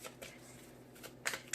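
Someone shuffles a deck of tarot and oracle cards up close, making soft papery riffles and a few sharper snaps in quick bursts. The shuffling is heard on its own, with no one talking.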